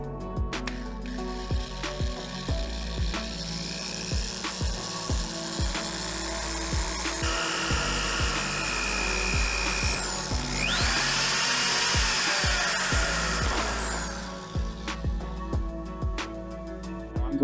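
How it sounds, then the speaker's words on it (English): A power drill works at a motorcycle brake-line banjo bolt to bore a safety-wire hole. It runs in repeated short bursts with whine and clicks, and one longer steady grind comes near the middle. "be careful not to let your drill slip and damage your bike."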